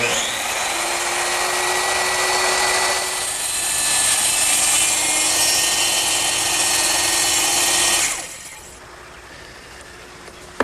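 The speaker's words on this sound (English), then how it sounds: "I'm going to make a plunge cut, which means I'm going to lower the blade through the work and carefully go along the line." A small circular saw plunge-cuts through wood along a line, a loud steady whining buzz that dips briefly, holds for about eight seconds, then cuts off and winds down to a faint hum.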